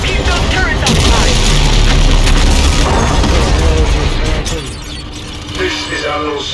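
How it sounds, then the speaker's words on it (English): Video game space battle against a super carrier, with loud, dense weapons fire and booming explosions rumbling continuously and easing toward the end, under game voices. "Concentrate all fire on that super carrier!"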